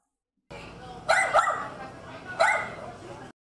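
Dogs bark twice in short bursts, close by, with a soft whimpering background between the barks, at a pet adoption event.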